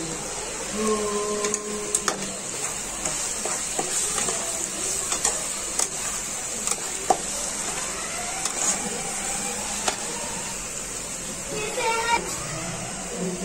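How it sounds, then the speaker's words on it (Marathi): Spices being stirred into a pav bhaji pan, a continuous close scraping and gentle sizzle with utensil clicks, a voice speaking intermittently over it. "आता आम्ही ते टाकतो आणि मस्तपैकी मिक्स करून घ्यायचंय"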